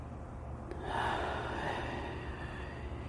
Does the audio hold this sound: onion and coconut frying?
no